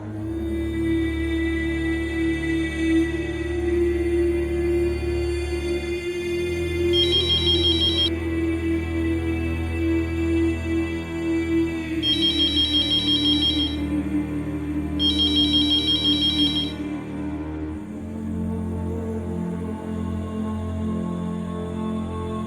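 A telephone ringtone plays after a number is dialed, a repeating melodic ring pattern over a steady tone, with short bright bursts of ringing recurring across the stretch and no talk.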